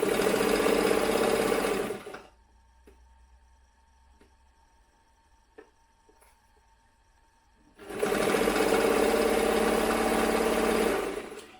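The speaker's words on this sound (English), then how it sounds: "I'm just sewing up the bust area now, so I'm just going to go in a diagonal line." A sewing machine stitches a diagonal seam across the bust of a dress bodice, running loudly for about two seconds, pausing through a quiet stretch with a few faint clicks as pins are handled, then running again steadily for several seconds.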